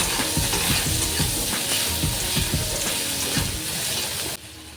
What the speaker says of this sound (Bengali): তো পেঁয়াজটাকে ভালো করে ভেজে নেব।